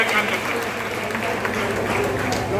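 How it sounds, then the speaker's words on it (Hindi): An audience at a BSP election rally in Uttar Pradesh claps steadily and loudly, a thick continuous burst of applause with crowd noise mixed in, lasting a couple of seconds. "मैं रामदास जी के लिए जोरदार तालियां बजाने का काम करता हूँ।"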